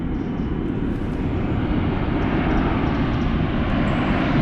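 A low-flying airplane roars steadily overhead in the Cotswolds countryside, a loud continuous rumbling engine drone with no voices.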